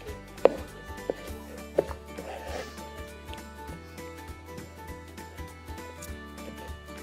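Bread dough for a sweet coca is cut by hand with a few sharp knocks early on, then soft repeated tapping and scraping over a faint steady hum; no speech.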